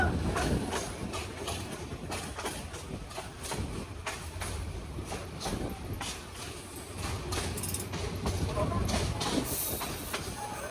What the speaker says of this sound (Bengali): লেট নিয়ে ময়মনসিংহ জংশনে পৌঁছায় বিজয় এক্সপ্রেস